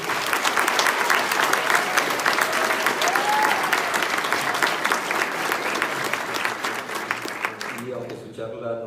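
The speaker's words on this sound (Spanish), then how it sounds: "Un fuerte aplauso." A large audience gives sustained, dense applause after an opening science lecture on phylogeny, loud and continuous for several seconds before tapering near the end.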